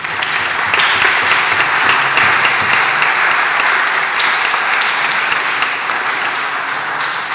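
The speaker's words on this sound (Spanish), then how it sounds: "Un aplauso para ella." A concert audience gives a dense, sustained round of applause for a Costa Rican soprano at an early-music performance, steady and full throughout.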